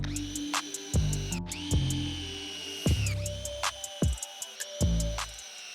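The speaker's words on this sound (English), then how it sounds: "we're gonna start driving some screws" Power drill driving screws into a wooden range table under construction, several short whirring bursts with pauses between them, near and fairly loud, along with knocks and handling noise.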